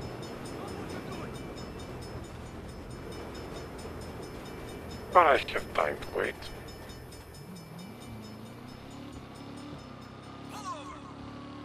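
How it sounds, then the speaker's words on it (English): A train rumbles past at a distance beneath steady traffic noise in the game Saints Row (2022), with a few sharp bursts midway and a low drawn-out tone near the end; a voice speaks briefly. "Bad time for a train."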